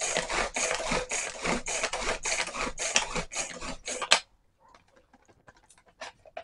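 A manual pull-cord chopper minces chicken, a rapid series of loud rasping, whirring pulls for about four seconds, then abrupt quiet broken by a few faint scrapes and clicks.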